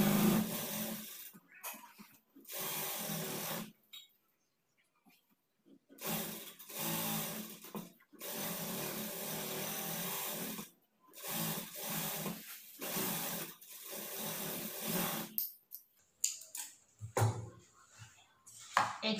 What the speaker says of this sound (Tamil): சைடில் இருக்க கிளாத்துக்கும் வந்து எஜ்ஜில் வந்து தையல் போட்டுக்கலாம்